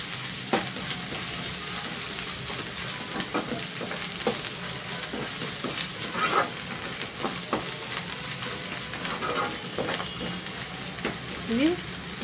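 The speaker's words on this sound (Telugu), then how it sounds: "కొంచెం దగ్గరే ఉండి ఇలా పచ్చివాసన పోయేంత వరకు కలుపుకుంటూ వేయించేసుకోవాలి" Ginger garlic paste and onions sizzle in a pan while being stirred, a constant close frying hiss broken by scraping strokes and small clicks of the spoon.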